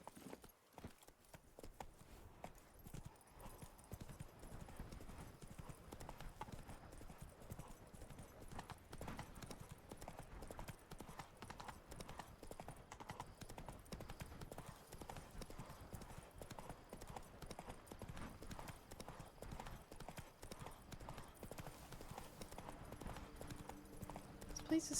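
Roach the horse trotting in The Witcher 3, a constant rapid clip-clop of hooves over open ground, steady rhythm under the game's ambient music, with a voice speaking at times.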